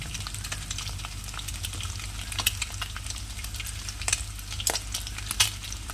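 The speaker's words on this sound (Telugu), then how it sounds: "ఫస్ట్ అయితే మనం రాత్రి మిగిలిన అన్నాన్ని వేద్దాం." Leftover cooked rice fries in a pan for egg fried rice, giving a soft, steady sizzle. Scattered light clicks and scrapes of stirring sound throughout at a fairly low level, with no talking.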